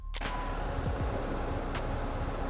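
A HydroSnooze cooling pad unit runs in its loudest turbo mode, giving a steady, even broadband whir that starts abruptly and holds constant at a moderate level without any voices.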